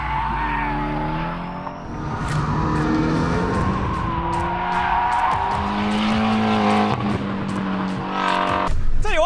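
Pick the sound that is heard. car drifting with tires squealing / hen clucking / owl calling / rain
car drifting with tires squealing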